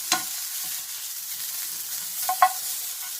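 Sausage frying hard on too-high heat in a home kitchen, a steady broadband sizzle with a couple of short louder crackles and spatters, close and alone without talk.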